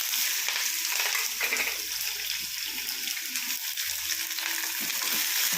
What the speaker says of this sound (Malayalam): ഉള്ളി പച്ചമുളക് ഇഞ്ചി വെളുത്തുള്ളി അതെല്ലാം കൂടെ വഴറ്റി കൊടുക്കാം